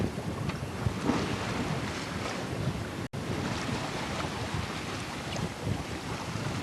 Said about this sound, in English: The wind is so nice.